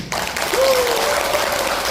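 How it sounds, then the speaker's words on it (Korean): Applause from a seated audience during a talk, a dense steady wash of clapping that fills the whole stretch at fairly close range with no pauses. "박수 한번 주세요."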